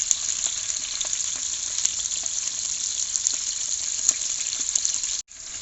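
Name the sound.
green chillies frying in coconut oil, being stirred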